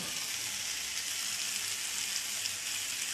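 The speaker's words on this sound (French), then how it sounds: "Je mets tout ça dans la poêle." Spring onions and wood ear mushrooms fry in a pan on a gas stove over medium heat, giving a steady, close sizzle throughout with no talking.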